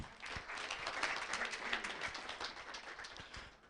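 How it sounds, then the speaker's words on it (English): A small gathering of cooperative comrades gives a round of applause, a dense patter of many hands clapping at moderate volume, rising and easing slightly over a few seconds outdoors. "A round of applause, comrades."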